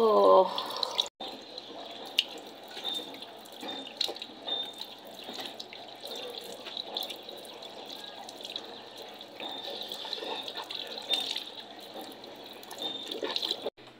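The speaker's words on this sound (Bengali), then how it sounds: "এখন আমি ধুয়ে নিব" Water running from a tap while someone washes their face, a steady soft splashing flow with drips and handling noises, fairly quiet and continuous throughout.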